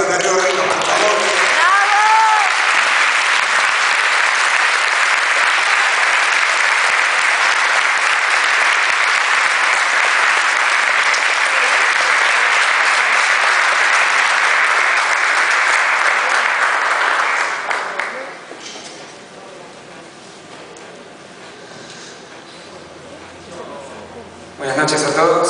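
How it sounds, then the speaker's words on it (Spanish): At an annual charity dinner, a large room of guests gives a long, loud, sustained round of applause to welcome a man to the stage, the clapping fading out after about eighteen seconds into murmuring and brief talk. "Un gran aplauso para recibir a Darío Rey, los pantalones."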